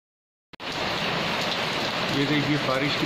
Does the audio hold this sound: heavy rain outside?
yes